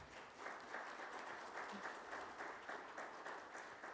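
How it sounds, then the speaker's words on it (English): Audience applause for panelists at a DJ panel talk, a steady wash of clapping from a modest crowd sustained for several seconds, fairly faint and distant. "can we please give our panelists a big round of applause?"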